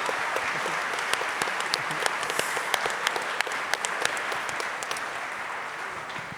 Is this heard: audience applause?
yes